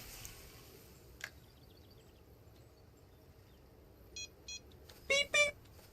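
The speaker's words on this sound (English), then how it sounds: "Beep, beep!" Electronic beeps in the Fishing Planet video game, a few short tonal bleeps followed by two louder chirping beeps over quiet background noise.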